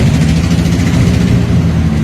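A cheap drift-project Ford Mustang, running for the first time in four years with exhaust headers not fully attached, idles loudly and roughly up close, a deep uneven rumble with pulsing low throb.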